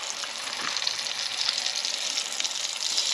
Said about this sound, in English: Now it's time to fry up that other batch.